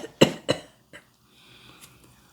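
A man coughs heavily in a few harsh bursts, two strong hacks close together followed by a smaller one, then fading into quiet breathy rasp, near and otherwise alone.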